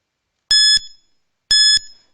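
A quiz timer sounds two loud, identical electronic alarm beeps about a second apart, each harsh and buzzy and lasting roughly a quarter second, with silence between them.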